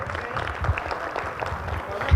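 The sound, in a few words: audience applause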